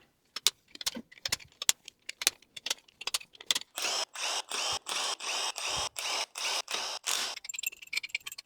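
Power tool rattling out 17mm main bolts during a BMW N42/N46 engine teardown, a series of sharp close impact bursts, short at first and then longer repeated rattling pulses, loud and alone.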